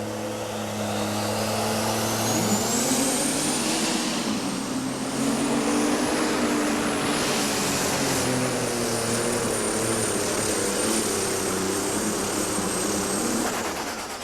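A pulling tractor at a 2007 tractor and truck pull in Hillsboro, Wisconsin, roars loudly and continuously. A rising whine runs over the roar as its tires spin on dirt, and no voices are heard.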